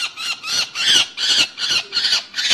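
A peregrine falcon chick screeches while being handled for banding and a throat swab, with six or so loud, harsh squawks in steady succession, close to the microphone.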